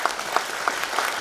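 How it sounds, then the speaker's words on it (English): Brief applause from a conference audience welcoming a speaker to a virtual reality panel, soft scattered claps heard from a distance in a large room. "Let's give him a round of applause."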